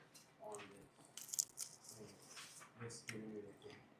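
A bite into a homemade crispy steak burrito with eggs and beans makes a close, brief crunch. Quiet mouth noises and soft vocal sounds come before and after it.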